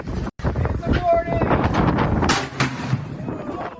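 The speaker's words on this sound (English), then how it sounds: "on a cold and extremely windy day for the 2022 meat shoot" Strong wind gusts buffet an outdoor microphone on a cold, extremely windy day at a 2022 meat shoot, a loud steady rush with bursts of low rumble, and a voice speaks faintly amid the noise.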